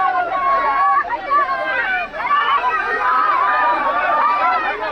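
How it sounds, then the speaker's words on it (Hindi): Large crowd of performers at a Bhojpuri reality show audition in Gorakhpur, shouting and cheering together in a loud, continuous babble of many voices that stays dense throughout. "मोहन भैया का स्वागत करने के लिए बहुत सारे कलाकार शोर मचा रहे हैं।"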